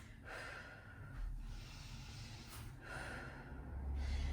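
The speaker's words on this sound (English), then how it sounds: "Now notice here my breathing." Heavy, rhythmic breathing from a person doing a low-impact interval home workout with squats, close and fairly soft, with several audible inhales and exhales and no talking.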